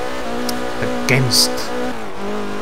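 A Porsche 944 fitted with a Nissan SR20DET engine in Forza Horizon, its engine droning steadily with a brief squeal and rev bump midway, heard under someone talking throughout.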